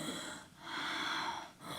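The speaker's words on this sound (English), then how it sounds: "just let your mouth open. And see if you can find a bit of a snore." A person demonstrates an open-mouthed, raspy snoring breath in a breathing exercise, like Darth Vader: two long hoarse airy breaths, close and fairly loud, with no talking.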